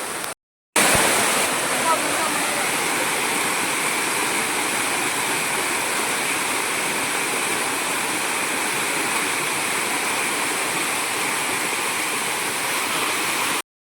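Jakeda waterfall in Nayagarh, a stepped cascade, roars as a steady, loud broadband rush of falling water, continuous and close after a brief cut at the start.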